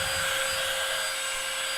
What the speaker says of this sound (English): Vacuum again.